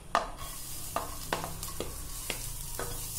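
Garlic sautés in butter in a pot for barley vegetable soup, a steady close sizzle punctuated by five or six sharp spoon scrapes and taps at roughly half-second intervals.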